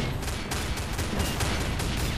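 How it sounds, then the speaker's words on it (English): Automatic machine gun fire in the shooter game Combat Arms, a dense continuous rattle of rapid shots running without a break, loud and close, with no talk over it. "That guy has an automatic machine gun."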